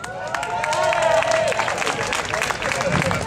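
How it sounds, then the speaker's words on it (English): Audience applause and clapping at a live event at the Bike on Broadway in Columbus, Georgia, steady and fairly loud with crowd murmur throughout. "Round of applause here."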